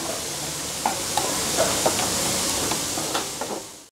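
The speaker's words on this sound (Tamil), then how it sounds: "புதினா மல்லித்தழை போட்டு நல்லா மிக்ஸ் பண்ணிக்கோங்க" Egg chapati kothu with mint and coriander is stirred in a hot pan, giving a steady sizzling hiss broken by scattered scraping clicks of the utensil.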